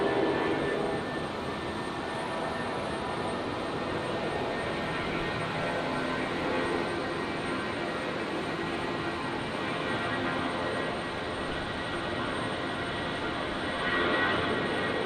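A Jetstar jet airliner at Brisbane Airport roars down the runway toward rotation on a stormy night, a steady, distant, broad engine rumble with no talk.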